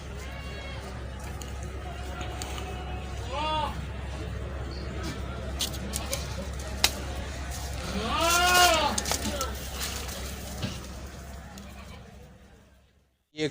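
Goats bleat at a Karachi livestock market where a spotless white goat and eight-month-old castrated male kids are on show; a few loud, wavering bleats come in two bursts over people talking and steady market hum.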